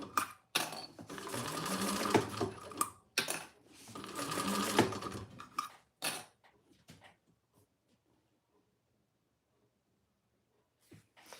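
A Thor sewing machine top stitches a trifold wallet in several loud, close bursts of rapid mechanical stitching, each lasting a second or two, before it falls quiet with only faint handling clicks.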